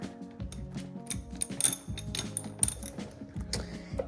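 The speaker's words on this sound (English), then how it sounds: "So you just need a 10mm socket. Take this bolt off here." Ratcheting clicks from a 10mm socket wrench loosening a bolt on a Yamaha TTR110 dirt bike during a battery replacement, a close run of quick mechanical clicks and pawl rattles with short pauses and no talk.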